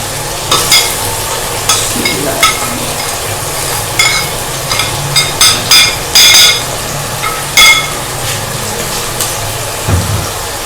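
Chicken keema frying over medium heat with two tomatoes and spices, a loud steady sizzle under repeated sharp clinks and scrapes of a spoon stirring against the pan.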